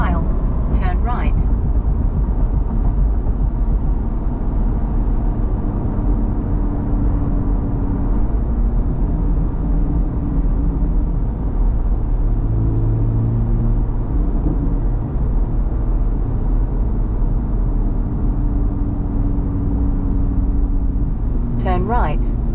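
A C8 Corvette Z06 engine drones at moderate revs, around 3,000 to 4,000 RPM, a steady low rumble from inside the cabin with someone talking over it and a brief navigation voice prompt.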